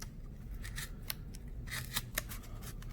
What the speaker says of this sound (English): maybe scissors would be more beneficial than